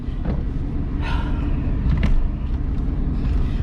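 An OBS Chevy Blazer out on a test drive gives a steady low engine and road rumble from inside the cabin, swelling slightly around the middle with a few brief higher mechanical rattles, and no talking.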